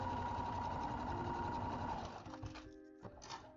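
A sewing machine quilts parallel lines across a fabric purse, running in a steady continuous whir for about two seconds before slowing into short stop-start bursts, close and fairly loud.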